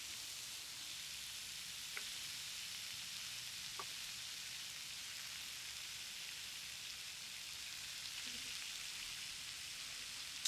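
Zucchini frying in oil in a hot skillet over fairly high heat, a steady soft sizzle throughout with a few faint clicks and no talking.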